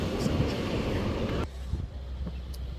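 Strong wind roars loudly against the microphone, then drops abruptly to a quieter rushing background partway through.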